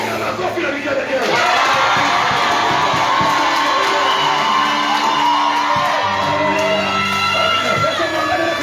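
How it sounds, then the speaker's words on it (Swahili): A church congregation claps, cheers and ululates together in a loud, sustained roar of shouts and high trilling voices, with a drawn-out chant carrying over the crowd noise. "Piga makofi na vigelegele."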